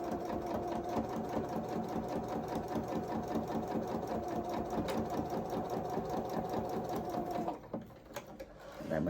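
A sewing machine runs steadily and loudly, stitching another row across a knee pad on small mechanic's coveralls, its rapid even whir going for about seven seconds before stopping, followed by faint rustling.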